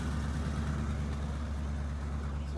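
A 1990 Oldsmobile with a 200-4R transmission idles on ramps after a torque converter clutch solenoid replacement, producing a steady low engine rumble close by and no talk over it.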